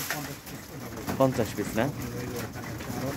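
A crowd of pigeons at a loft under a tin roof, mixed breeds such as Pakistani Teddy, Kamagar, Giribaz and Golai Lal, coo softly and steadily while someone talks over them nearby.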